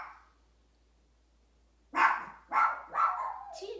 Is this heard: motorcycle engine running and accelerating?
no